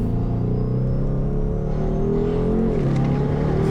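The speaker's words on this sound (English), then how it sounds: "You're also going to hear, you know, a lot of ignition cut between the shifts." A 1100-horsepower Shelby GT500 accelerating hard in a race: a loud, steady engine drone that rises in pitch, with a brief shift dip from the ignition cut, no voices.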